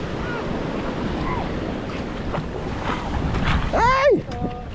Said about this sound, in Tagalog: Ay! Ayan ang alon.